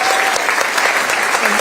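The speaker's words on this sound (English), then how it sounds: "Give yourselves a round of applause." Students in an audience at a university address clap in a brief, dense burst of applause, close and loud.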